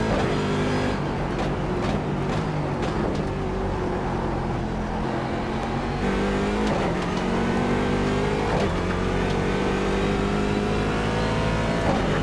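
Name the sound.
C7 DP race car engine on new tires, iRacing video game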